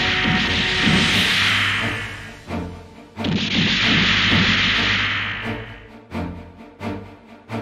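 Artillery barrage from the Adrastea battleship in SD Gundam G-Generation Spirits, two long roaring bursts of booming fire, loud and close, each trailing off before sharp thuds and crashes follow at the end.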